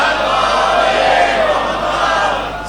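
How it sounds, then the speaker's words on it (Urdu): A mosque congregation loudly recites salawat together during a Muharram majlis at an imambargah in Multan; a dense, roaring wash of many voices holds steady throughout at close range. "جتنی آپ کے دلوں میں بی بی کی عظمت ہے اتنی بلند صلوات پڑھیں۔"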